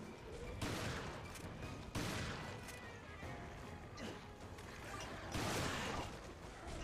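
Gunshots in Resident Evil Revelations 2, several heavy blasts with crashing impacts spaced across the stretch, fairly faint overall against a noisy game background.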